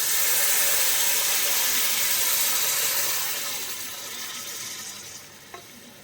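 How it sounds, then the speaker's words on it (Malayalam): Duck stock is poured into a hot Kottayam-style duck mappas gravy, a loud, close hiss and bubbling rush that settles into a quieter simmer partway through. "നമുക്കിതിലേക്ക് നമ്മുടെ ഗ്രേവിക്ക് ആവശ്യത്തിനുള്ള വെള്ളം ഒഴിച്ചു കൊടുക്കണം"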